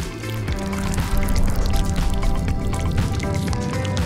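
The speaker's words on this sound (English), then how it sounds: "Now it's time to pour the batter into it." Thick cake batter is poured into a ring mould lined with parchment paper, making close, wet glugging and squishing sounds that drip and flow steadily without a break.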